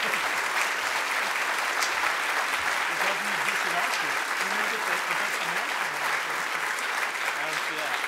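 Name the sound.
audience applause at faculty awards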